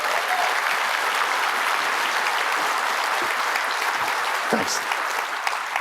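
Steady, dense audience applause fills the room at an academic talk on free universities, loud and continuous throughout, with a brief word of thanks spoken over it near the end.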